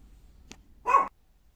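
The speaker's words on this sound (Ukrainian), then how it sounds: "у нас гроза, і песик реагує на грим" A pet dog reacting to a thunderstorm gives a single short, muffled bark after a faint click, somewhat distant in an otherwise quiet room.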